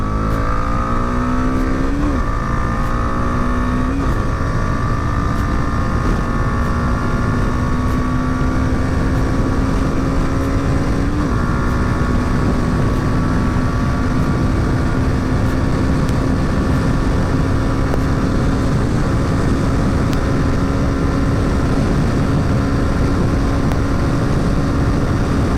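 A Bajaj Dominar 400 motorcycle accelerates hard on a test track, its engine note climbing steadily through several gear changes, loud and close throughout with constant wind rush and no talking.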